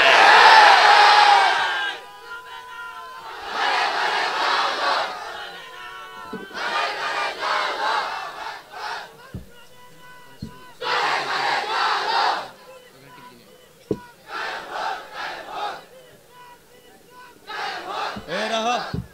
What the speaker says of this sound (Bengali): বেড়া খারা হইয়া বইরা তাকবীর দেয় বেড়া।